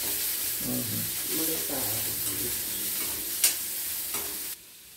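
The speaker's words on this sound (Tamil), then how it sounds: "வெங்காயம் பாதி வதங்கிடுச்சு." Finely chopped large onions sauté in a pan, making a steady close sizzle with stirring scrapes that stops abruptly near the end.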